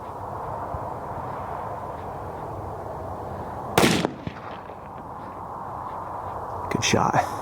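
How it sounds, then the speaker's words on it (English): A rifle shot rings out during an antelope hunt in open country, a single sharp crack at mid-distance followed by a second burst near the end, over steady wind and low background noise. "Good shot."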